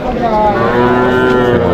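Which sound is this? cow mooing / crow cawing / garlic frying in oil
cow mooing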